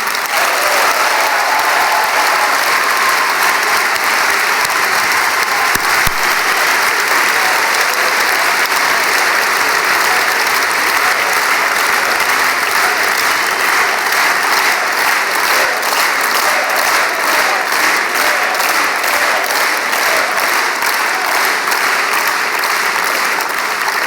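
A large rally crowd in Paris applauds without pause, dense loud clapping that fills the whole stretch with no speech on top.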